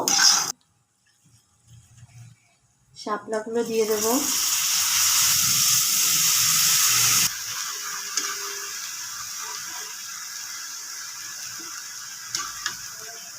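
Water lily stems dropped into a hot pan with turmeric, salt and ground cumin burst into a loud, bright sizzle that settles into a softer steady hiss, with a brief voice just before.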